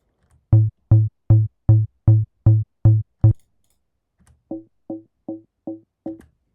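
A trance bassline heard without its second layer: eight punchy, evenly spaced bass plucks, then a short gap and six quieter, thinner notes in the same tight rhythm.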